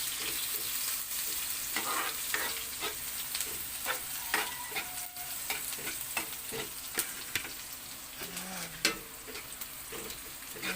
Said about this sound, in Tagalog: Next is yung sibuyas. Hanggang maging transparent.